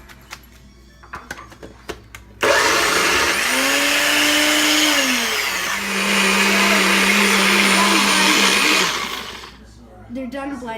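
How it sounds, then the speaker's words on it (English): Blender whirring loudly as it purees drained rutabaga and carrot for mash, starting abruptly, shifting pitch midway and running about seven seconds before stopping, with a person talking briefly before and after. "now we're gonna blend about 3/4 of them"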